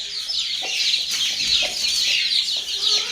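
A mother hen and her newly hatched chicks cluck and cheep together at close range, a busy overlapping chatter of high peeps and low clucks with no talking.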